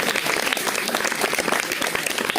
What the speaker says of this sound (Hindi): एक बार सभी प्रतिभागियों के लिए जोरदार तालियों से अभिनंदन करें।